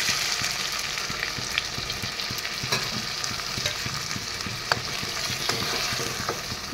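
Chicken curry fries in a pan after a splash of water, a dense, even sizzle that continues steadily with small crackles and occasional stirring clicks, close up and alone.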